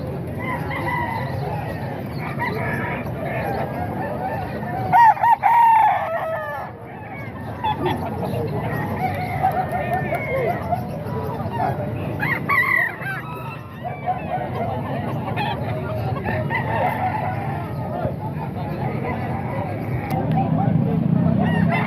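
Roosters crow and other poultry honk and cluck close by, amid people talking in a busy outdoor setting.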